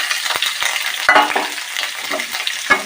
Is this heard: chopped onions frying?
yes